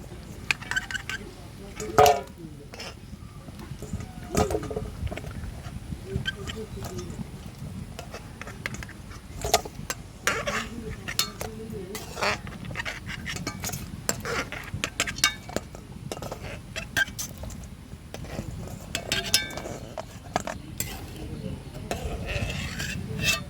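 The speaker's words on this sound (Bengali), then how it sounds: "এবার জলের থেকে মাংসটা আমি তুলে নেব" Boiled mutton being lifted out of its cooking water in a pot, with steady scraping, clinking and sloshing of a metal utensil against the pot, close by and continuous, while a person talks at times.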